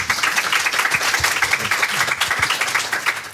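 Applause from a seminar audience on labour law and the Supreme Court, a brisk patter of many hands clapping that carries on steadily for a few seconds.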